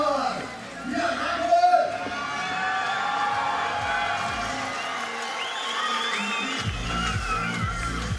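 Slovenian home crowd at a lead climbing semi-final in Koper, a steady, distant roar of cheering and whistles carrying on throughout under a commentator's voice.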